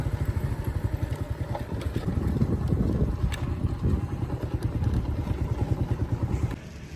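A motorcycle engine putters steadily with a rapid low thumping rhythm, close and continuous, then eases off near the end.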